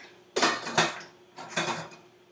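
A metal lid set onto a cooking pot of water being brought to a boil during bulk meal prep, giving two close clanks followed by a third softer rattle as it settles.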